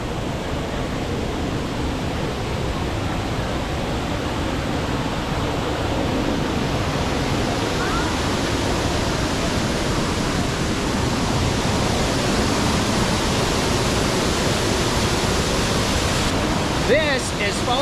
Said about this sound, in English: This is Falling Waters Waterfall.